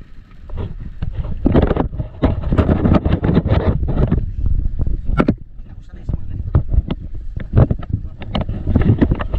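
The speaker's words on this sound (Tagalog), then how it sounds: "Malakas ang hangin." Strong wind buffeting a small boat near Caramoan, loud irregular gusts and rumbling bursts close to the microphone, with people talking intermittently through it.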